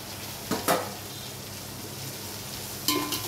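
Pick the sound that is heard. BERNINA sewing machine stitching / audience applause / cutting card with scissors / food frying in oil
food frying in oil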